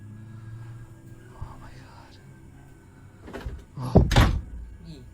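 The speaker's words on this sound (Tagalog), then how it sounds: "nahawakan at naisara nito ang pinto" A door swings shut with a couple of close, dull thuds near the end, in a hushed room with faint whispery murmuring underneath, in footage said to show a ghost closing the door.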